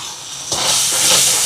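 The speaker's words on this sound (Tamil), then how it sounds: "இங்கே வெங்காயம் எல்லாம் வதங்குது பாருங்க." Onions sauté in a pan with ginger-garlic paste, tomato and cinnamon powder for a chicken curry, a loud, close, steady hiss that swells suddenly halfway through and keeps sizzling strongly.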